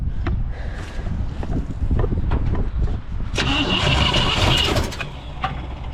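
A 1963 Pontiac Catalina engine cranks and catches, then runs loud and close with an uneven idle that rises into a stronger rev near the end.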